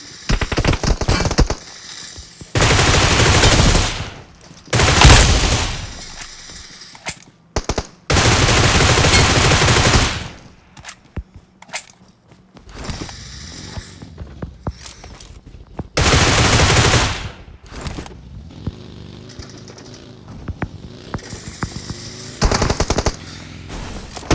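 Automatic rifle fire in PUBG Mobile rattles out in long, loud sustained bursts, with several separate volleys and shorter pops between them.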